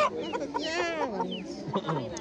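A rooster at a market lets out a close, warbling cluck and call while people talk over it.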